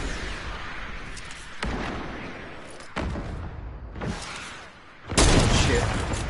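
Bursts of gunfire in Fortnite battle royale combat, several sharp loud volleys separated by short pauses with a heavy blast near the end.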